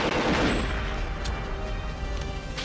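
The K7 Avenger assault rifle fires in the Perfect Dark video game, a loud rapid burst of close gunfire with booming impacts, tailing off into a few fainter shots and clicks.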